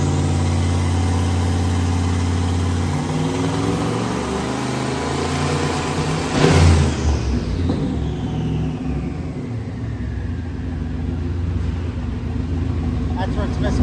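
An LS3 V8 fitted with a Garrett turbo runs on a dyno with a loud, steady drone that breaks up into a rough misfire midway, then fades into a lower, uneven rumble.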